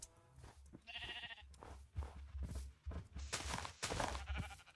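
Sheep in the Minecraft game give several short, nasal bleats, interleaved with game noises and soft thumps that pile up into a busier, layered stretch toward the end.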